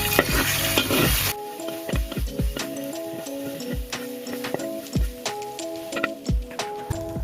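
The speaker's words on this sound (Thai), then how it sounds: "ต่อจากนั้นนะคะให้เราใส่พริกลงไป คนนะฮะ" Chillies frying in a pan while being stirred, a steady sizzle with repeated rhythmic scrapes and taps of the spatula, loud and close, after an initial burst of hissing.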